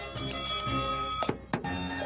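A bell is rung over a steady tonal background, with a few bright, ringing strikes standing out near the end, set beside a drum in a blindfolded sound-recognition game.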